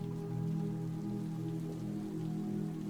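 Steady rain falls on an outdoor surface at a cozy Brighton street at night, a soft, continuous wash of drops with a low rumbling background and no talking, holding even for about three seconds.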